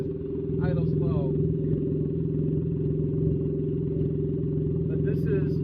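A Can-Am Ryker fitted with an aftermarket exhaust idles slowly, making a steady, deep, throbbing rumble close by that holds through the whole stretch, with brief voices over it.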